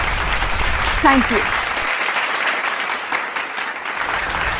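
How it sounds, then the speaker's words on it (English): Audience at a school sports day applauds welcomed guests with sustained clapping, and a voice briefly speaks over it before the clapping carries on. "Let us welcome them with a huge round of applause."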